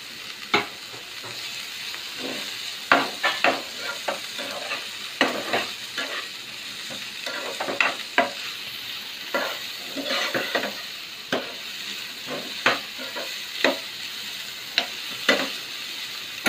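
Chopped capsicum stir-fried for street-style veg fried rice, with a steady sizzle under repeated sharp scrapes and clacks of the spatula against the pan, close and fairly loud throughout.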